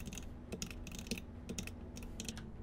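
Keys clatter on a computer keyboard in short irregular bursts of clicks, close and fairly quiet, with a faint steady hum beneath.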